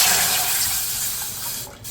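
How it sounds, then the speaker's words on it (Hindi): Water poured into a pan in a home kitchen makes a steady, close splashing rush that holds for two seconds and then eases off at the end, with no talk. "एक पैन लेकर इसके अंदर मैं डालूंगी 2 कप पानी।"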